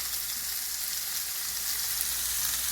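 Meat fries in a pan with a dense, even sizzle and crackle that stays loud and constant throughout, with no voices.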